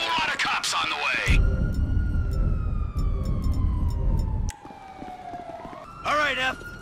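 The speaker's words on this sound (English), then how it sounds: "You hear all them sirens" Police sirens wail in Grand Theft Auto V during a heist, a loud continuous siren tone sliding slowly downward over rumbling engine and gunfire noise, with voices talking before and after.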